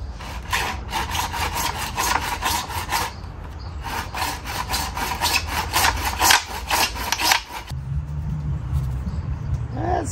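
A hand saw cuts through a part for the front end of a 1973 Harley-Davidson Sportster. The strokes are loud, steady and rhythmic for about seven seconds, then stop and leave a low hum with some handling noise.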